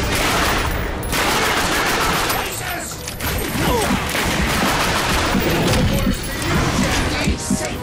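Enemy gunfire in the video game The Darkness 2: loud, dense bursts of rapid shots and crackling fusillades, nearly continuous with brief lulls and a few heavier impacts mixed in.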